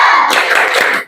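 Classroom of students doing a rhythmic 'tepuk semangat' clapping routine, a dense burst of many hands clapping together loudly for about a second before cutting off.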